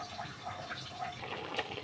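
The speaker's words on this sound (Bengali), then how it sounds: "কেটে নিলাম, এখন ধুয়ে নিচ্ছি। লাল শাকগুলো ধোয়া শেষ হয়ে গেছে।" Red amaranth leaves are washed in water in a kitchen, a soft continuous sloshing and swirling that stays quiet and fairly close throughout.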